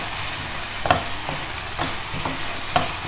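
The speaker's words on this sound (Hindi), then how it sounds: "अब इसमें हम डालेंगे ये पेस्ट जो हमने बना के रखी थी, लहसुन और ज़ीरा और हरी मिर्चें, और ये इसको इसमें शामिल करेंगे और थोड़ा सा भूनेंगे इसको भी।" A paste of garlic, cumin and green chillies frying in a pan for masala fish curry, a steady close sizzle broken by a few sharp scrapes and taps of a spoon stirring, with no voices.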